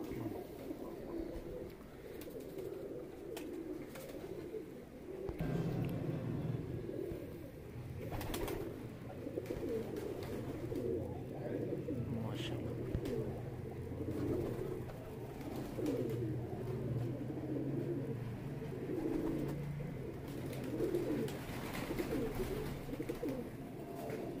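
Pigeons coo continuously in soft, low, rolling calls, several birds overlapping, with faint background noise throughout.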